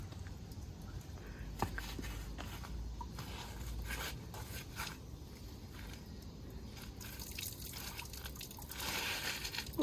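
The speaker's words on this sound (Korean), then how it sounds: "물이 졸졸졸졸 나온다." A thin stream of water trickles and drips softly and steadily from a tap in a kitchen, faint and close, with small clinks and patters scattered throughout.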